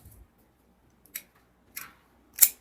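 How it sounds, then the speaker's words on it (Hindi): Scissors cutting suit fabric for a simple Punjabi suit, heard as three short, separate snips spaced about half a second apart, fairly close and clear with no talk. "हल्के हाथ से, जैसे ये देखो ये रपटती है ना कैंची, ये रपटने दें।"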